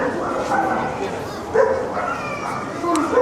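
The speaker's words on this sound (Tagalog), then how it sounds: "Dami talagang aso dito yan." Dogs yip and bark at a large outlet shopping park in Japan. Several short barks and whimpers rise over steady crowd noise and someone talking nearby.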